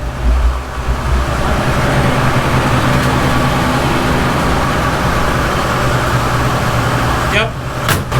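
Ford Mustang engine idling steadily and loudly up close, a continuous low rumble with a brief change near the end as people talk nearby.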